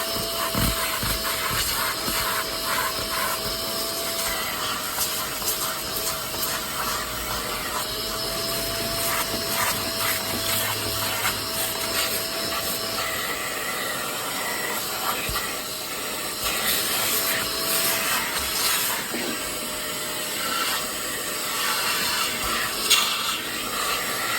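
A Shark steam cleaner sprays steam onto car seats with a continuous close hiss over a motor whine, swelling and easing slightly as the spray moves across the upholstery, with no talk.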